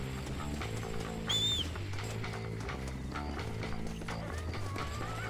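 Rhythmic hoofbeats of a galloping horse in the video game Red Dead Redemption pound steadily over background music, with a brief whinny-like squeal partway through.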